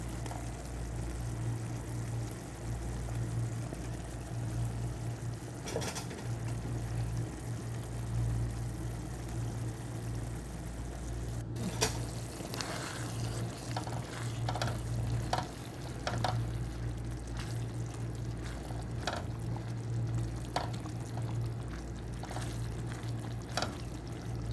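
Red and green capsicum strips hitting a pan and being stirred, with soft scraping strokes and light clatters over a steady low hum, fairly faint and close.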